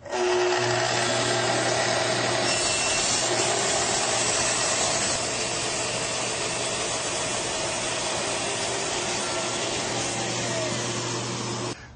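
A Festool saw with parallel guide extensions rips a narrow 2 mm strip, a steady whining drone holding near and loud for about twelve seconds with a constant low hum beneath, no talking.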